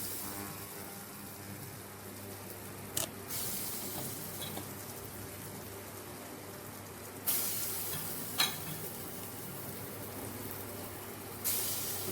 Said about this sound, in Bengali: এবার আমি ছোট ছোট করে বড়াগুলো ভেজে নেব।